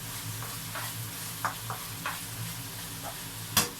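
Bacon sizzles and crackles steadily in a pan, with occasional soft pops and light scraping from stirring.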